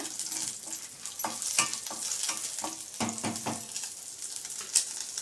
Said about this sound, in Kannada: ಬರೀ ಕಡಲೆಬೇಳೆ ಒಗ್ಗರಣೆ ಕೊಡ್ತೀನಿ